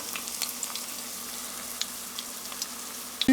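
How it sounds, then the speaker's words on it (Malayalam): Malabar egg-stuffed bread boxes dropped into hot oil, a steady close bubbling sizzle with small crackles, ending in a sharp clatter. "നമ്മുടെ ഈ ബ്രെഡ് ബോക്സ് ഇങ്ങനെ ഇട്ട് കൊടുക്കാം"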